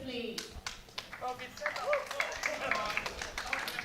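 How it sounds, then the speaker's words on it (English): A crowd at a powerlifting qualifier claps in a light, scattered patter that builds into steadier applause, mixed with voices talking over it. "Got a nice little bit of support from the crowd there."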